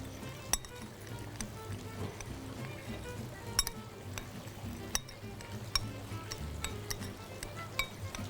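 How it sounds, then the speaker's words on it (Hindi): Brown sugar and cinnamon powder stirred together in a bowl, giving a series of light spoon-against-bowl clinks at an irregular rhythm over a low steady background hum. "दोनों को मिक्स कर लेंगे। उसको अच्छा सा मिक्स करते हैं।"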